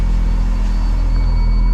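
Mazda RX-7 rotary engine idling steadily after a test drive on a hot 85-degree day, a continuous low rumble with a droning hum, loud and close, no voices.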